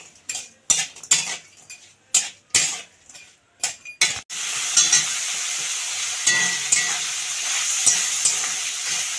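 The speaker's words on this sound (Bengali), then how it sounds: "কাঁকড়াটা আমার ভাজা হয়ে গেছে, আমি নামিয়ে নেব।" Mud crab pieces being fried in oil in a wok, with repeated metal spatula clinks and scrapes for a few seconds, then a steady loud sizzle with occasional stirring knocks.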